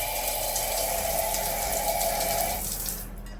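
Hotel room shower at a Four Points by Sheraton running with modest water pressure, a steady close hiss of falling water that cuts off near the end.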